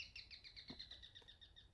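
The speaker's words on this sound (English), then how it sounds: "It definitely sounds like a bird." Small bird chirping loose inside a house in a horror video game: a steady run of quick, high, repeated chirps, moderately loud and close, with a faint low thud partway through.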